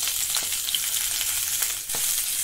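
Vegetables for a Bengali niramish chorchori hiss and sizzle in a hot pan, a bright steady crackle with a few soft stirring knocks, close and moderately loud.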